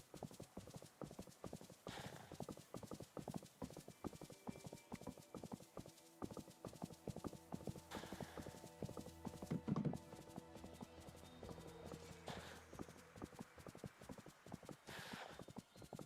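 Steady clip-clop of horse hooves trotting in Disney Dreamlight Valley, in a quick, even rhythm, with a faint whinny partway through and soft game-like background tones.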